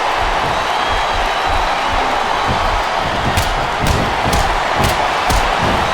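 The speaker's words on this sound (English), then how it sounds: "Wow, listen to that chant, Taz." An arena crowd in the video game WWE SmackDown vs. Raw 2007 on Xbox 360 roars continuously, with a rhythmic chant punctuated by regular, evenly spaced claps or stomps.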